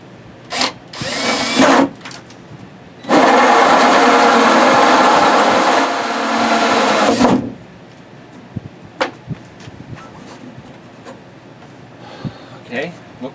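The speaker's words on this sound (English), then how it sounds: "Again, it's a 1 3/8 hole saw." A power drill runs a 1 3/8 inch hole saw into an RV wall: one loud steady whine of about four seconds that dips partway through, with a short burst just before and scattered handling clicks afterward.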